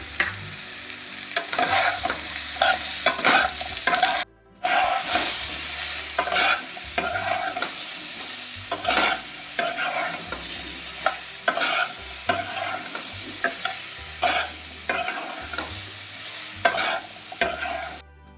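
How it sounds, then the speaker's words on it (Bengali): Green mango pieces fry in oil with salt over full heat for a morabba, a continuous close sizzle under frequent rhythmic scraping and stirring, with a brief pause partway through. "তো 2-3 মিনিট তেলে এইভাবে ভেজে নিলাম লবণ দিয়ে।"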